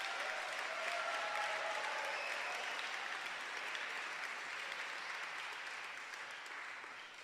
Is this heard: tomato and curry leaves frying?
no